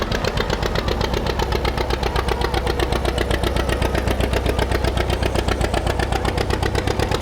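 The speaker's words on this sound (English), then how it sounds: "Makes that sound because it has a gutted muffler, just a straight stack" Engine running through a gutted muffler and straight stack exhaust, a loud, steady, rapid throbbing idle with an even pulsing rhythm, close by and continuous throughout.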